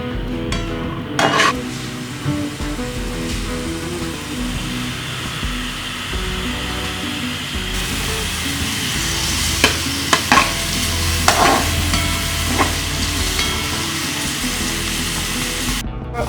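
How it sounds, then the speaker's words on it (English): Onions and garlic fry in a hot pan for potato samosa filling, a loud continuous sizzle with intermittent spoon scrapes and clatters, no speech. "Now we'll add our onions and our garlic and cook them real slightly."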